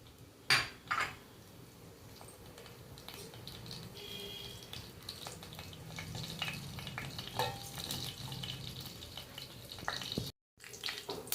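Chopped onions fry in hot oil in a pan for a Telugu fish curry, giving a soft, steady sizzle broken by the clink and scrape of a spoon stirring against the metal.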